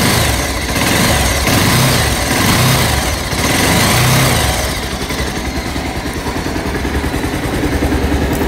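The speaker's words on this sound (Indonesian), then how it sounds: "Ada masih bunyi ciri khas Pulsar ya." A Bajaj Pulsar 220 motorcycle engine runs steadily up close, a loud, buzzing idle that shifts slightly in pitch before settling.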